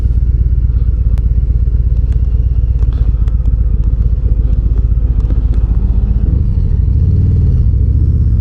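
A 2025 Harley-Davidson Breakout cruiser with a 117 engine and forward controls, its loud steady engine rumble heard up close while riding on the road, with faint clicks and a shift in tone near the end.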